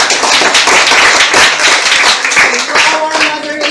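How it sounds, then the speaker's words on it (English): A classroom of students applauds their class debate moderator, a loud, dense wash of close clapping that fills the whole stretch and thins slightly toward the end, with a faint voice or two mixed in. "So let's give a round of applause"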